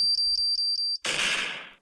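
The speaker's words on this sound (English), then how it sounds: "They have that 6-second countdown. Beep, and beep, and beep, beep, beep, beep." Five evenly spaced, high electronic beeps from a countdown timer, close and clear, followed by a sudden loud burst of broadband noise that fades away.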